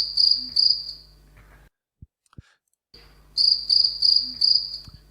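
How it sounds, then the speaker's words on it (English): Cricket chirping in close, repeated pulsed bursts; the trills stop for a silent stretch in the middle, broken by a couple of faint clicks, then resume just as steadily, with no voices. "Let's take a look at a cricket, a famous example for making sound."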